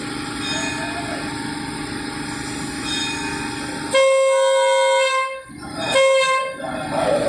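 Express diesel railcar train 22 departs Buriram station with a steady rumbling engine and two loud, close horn blasts, the first long and the second shorter.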